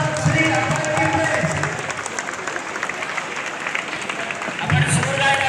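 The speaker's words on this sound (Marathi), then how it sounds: "प्लीज उभं राहून त्याच्यासाठी जोरदार टाळ्या होऊन जाऊ दे." An audience at a college walkathon event applauds, sustained clapping from a crowd that swells at the start and again near the end.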